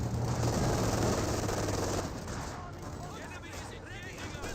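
Rattling bursts of MG-42 machine-gun fire from a garrisoned position in Company of Heroes 2, dense and steady for the first two seconds, then thinning into quieter scattered shots and battlefield noise.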